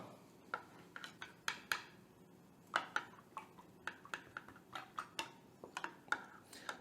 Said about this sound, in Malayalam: പിന്നെ നമുക്ക് സ്പൂൺ കൊണ്ട് നന്നായിട്ടൊന്ന് ഇളക്കി കൊടുക്കാം